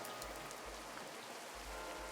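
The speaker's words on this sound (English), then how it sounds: "I can't stand the rain." Soft, steady rain patters on a surface in the Darkside Detective video game, a faint continuous hiss with a low rumble pulsing underneath.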